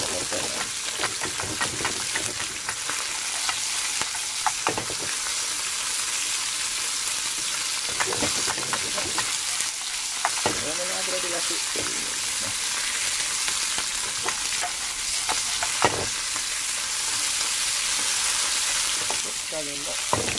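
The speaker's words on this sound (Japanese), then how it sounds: "弱火から調節していきながら、香ばしく揚げ焼きしてください。" Sweet shrimp shallow-frying in oil with potato starch over low heat, a dense continuous sizzle and crackle with occasional stirring scrapes, close and steady for the whole stretch.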